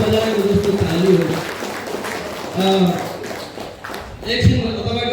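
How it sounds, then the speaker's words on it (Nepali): An audience clapping in a hall, a broad wash of applause that swells and fades in waves, with a voice talking over it. "जोरदार रूपले ताली होस्"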